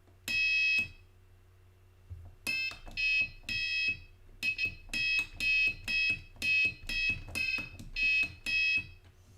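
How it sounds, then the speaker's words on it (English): Harsh electronic beeps from a homemade digital piano sound one after another in a halting, uneven tune, each a buzzy tone lasting under a second. "We got a piano going on."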